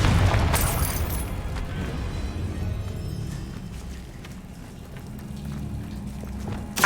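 Confringo explosion spell in Hogwarts Legacy: a sharp bright burst at the start gives way to a low, rolling rumble that fades slowly, then a brief crack at the very end.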